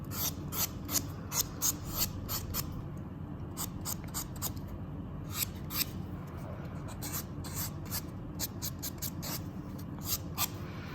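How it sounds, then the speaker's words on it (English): A nail buffer is rubbed side to side across a fingernail, giving a steady, close rasping scrape in quick repeated strokes with no talking. "And with the buffer, I also work from side to side usually"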